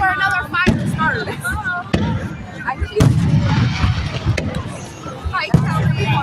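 Fireworks going off in Michigan, sharp booming bursts with crackling tails at irregular intervals, some close and loud, with excited voices and crowd chatter between the blasts.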